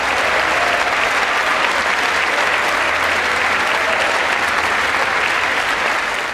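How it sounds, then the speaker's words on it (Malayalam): Lawmakers in a legislative chamber give a standing ovation to a speech by President Joe Biden. Loud, dense, sustained applause from a large crowd fills the whole stretch without a break. "എഴുന്നേറ്റ് നിന്നു കൈയടിച്ചു ഭരണ പ്രതിപക്ഷ"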